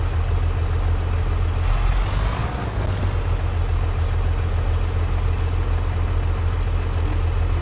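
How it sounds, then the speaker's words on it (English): Tractor engine in Farming Simulator 22 idling steadily, a constant low rumble with a deep hum that holds at the same level for the whole stretch, with no talk over it. "we can go ahead and turn off our tractor"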